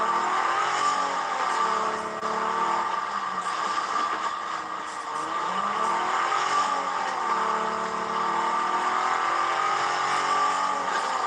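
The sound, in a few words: car engine revving in a video game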